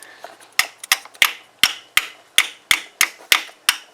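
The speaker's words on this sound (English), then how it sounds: "Might need to tap that with a little hammer or something." A small hammer taps a part into place on a Mercedes E320 during serpentine belt replacement, about a dozen sharp, bright metallic clicks in a quick uneven rhythm, close and alone.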